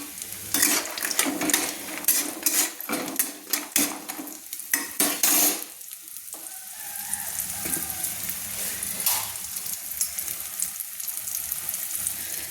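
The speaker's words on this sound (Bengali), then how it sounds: "বড়িগুলো আমি ভেজে নিচ্ছি" Lentil dumplings (bori) frying in hot mustard oil, with loud clattering stirs and scrapes at first, then a steadier, quieter sizzle continuing to the end.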